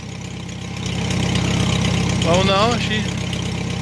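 A Farmall H tractor engine idles steadily, a low continuous rumble running throughout, with a person talking briefly over it partway through.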